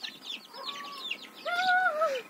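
Chickens and guinea fowl in a village laying area give a few soft chirping and clucking calls, with higher whistling notes rising toward the end, close by and fairly quiet.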